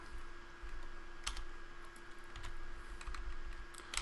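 Keys clatter on a computer keyboard during a slow, stop-start typing session, with faint scattered clicks and bursts at a modest level over a steady background hum and no talking.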